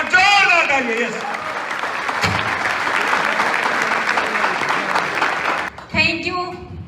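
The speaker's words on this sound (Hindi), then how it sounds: "जोरदार तालियां बजा दीजिए लास्ट" Audience applause fills a hall at an RCM gathering, loud and sustained for several seconds, with a short pause near the end before clapping resumes.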